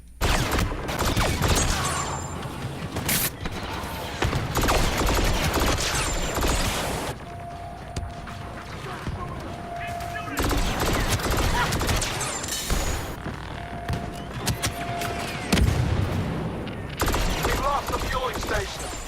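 The A280 CFE blaster rifle fires in Star Wars Battlefront 2, with rapid bursts of sharp energy shots crackling through loud, busy battle noise, interspersed with mechanical clicks and muffled game voices.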